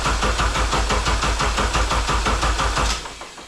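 Engine cranking on a K-swapped 1987 Acura Integra: a steady rhythmic starter whir with regular compression pulses, close and loud, winding down at the end without catching.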